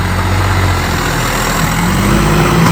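John Deere 5405 turbo farm tractor engine runs loud and close, a heavy, steady diesel drone with low rumbling harmonics that stays constant throughout, with no voices over it.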